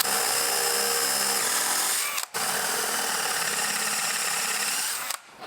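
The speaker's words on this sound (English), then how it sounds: "I'm just gonna get my plug cutter on there and cut me some plugs" Close, loud whine of a drill spinning a plug cutter into a scrap piece of white oak, a sustained grinding drone that briefly cuts out twice before resuming.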